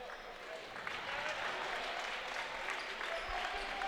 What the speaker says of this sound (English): Devin going to get a nice round of applause from the HU alum.